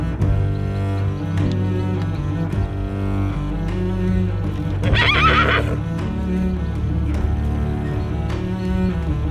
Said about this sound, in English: there's so many beautiful horses here